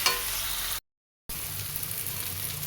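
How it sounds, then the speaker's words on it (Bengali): Ginger garlic paste sautés in a hot pan with a continuous close sizzle and faint stirring scrapes, interrupted once by a short silent break before the frying resumes. "এবার এটা ভালো করে কষাবো"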